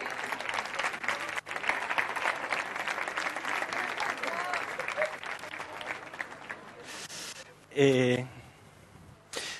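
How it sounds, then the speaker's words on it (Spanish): Audience applause at a Spanish talk event, a steady crowd clapping that fills most of the stretch, then breaks off, with a short spoken voice near the end. "Un aplauso para ella, por favor."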